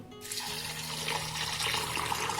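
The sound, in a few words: water poured onto rice and urad dal for soaking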